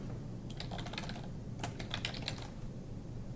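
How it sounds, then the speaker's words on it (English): Someone types on a computer keyboard in two quick bursts of clicking keystrokes, close and fairly soft against a quiet room hum, with a short pause between them. "I just start typing it"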